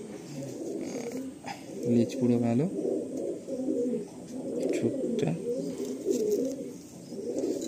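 A breeding pair of pigeons with clipped wings in a home loft at Barasat coos in soft, repeated throaty bursts close by, while people talk over and between the calls.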